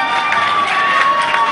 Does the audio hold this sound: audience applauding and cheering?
yes